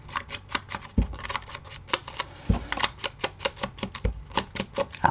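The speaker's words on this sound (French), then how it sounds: "il va falloir que je recoupe un papier en fait du coup" Scissors cutting paper for a vintage mini album craft project: a quick run of about twenty crisp, close snips in a steady rhythm, with a few soft thumps in between.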